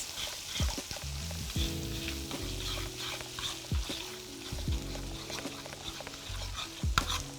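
Tomato paste mixed with red pepper and salt fries in a pan while a spoon stirs it, giving repeated scraping strokes over a quiet sizzle, close and soft, with no talking.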